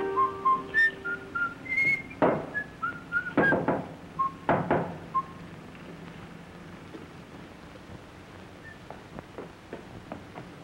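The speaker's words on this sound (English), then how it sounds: "I hope my playing doesn't interfere with your whistling" Melodic whistling in short tuneful phrases, fairly close, with a few sharp knocks and taps underneath; the whistling fades out midway, leaving faint scattered ticks.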